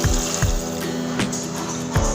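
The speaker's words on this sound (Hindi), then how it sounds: "अब इसमें पानी रखनी है" Water poured into a sizzling beef and potato curry, a short close burst of hissing liquid with a few spoon knocks and no talk.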